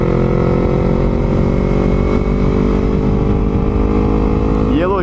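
A Yamaha MT-03 motorcycle runs close and loud as it is ridden around a neighbourhood, a continuous droning engine note that rises slightly near the end.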